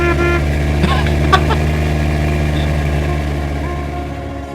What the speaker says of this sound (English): It's just a random car.